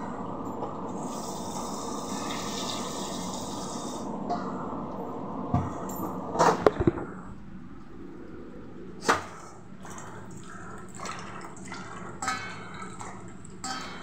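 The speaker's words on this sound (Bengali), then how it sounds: "এবার ধোবো আলু, মাংসের আলু।" Water runs steadily from a kitchen tap while potatoes are washed for a meat dish, then the flow eases into softer trickling with a few knocks and clatters of handling.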